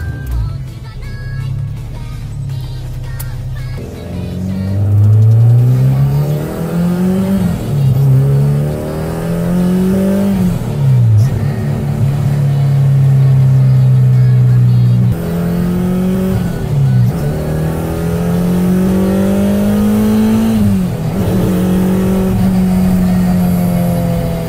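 Cars on a highway at a Honda Day gathering in Batu Kawan, including Honda Type R and Wira models: loud, close engines revving and accelerating hard through repeated gear changes, continuous throughout with no talking.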